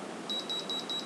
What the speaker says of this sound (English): So you can hear the buzzer sound.